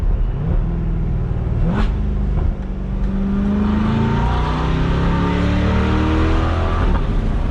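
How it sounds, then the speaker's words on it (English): A Chevrolet C8 Corvette with an aftermarket exhaust revs and pulls through gears, a loud close engine note rising in pitch, briefly dipping at a shift, then climbing again with a throaty roar. "Wow, that exhaust sounds awesome now."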